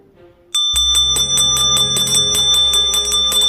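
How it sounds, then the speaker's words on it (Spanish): A small old metal handbell that has lost its shine rings repeatedly and loudly after a quiet start, giving bright, rapid, ringing strokes. "La campanilla sonaba ahora más seguida."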